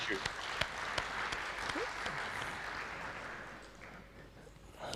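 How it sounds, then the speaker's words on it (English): At the Legito Legal Disruptors 2020 event, scattered claps form soft, thin applause that fades toward the end, with a voice speaking briefly over it. "I think you deserve a lot of applause."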